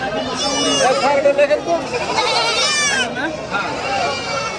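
A dense chorus of goats bleating at a livestock market, with several loud wavering calls close at hand and overlapping continuously. A crowd murmurs in the background.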